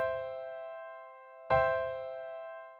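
A major chord struck twice on a software instrument in FL Studio, each a bright, sustained tone that slowly decays, the second attack louder, with no voice.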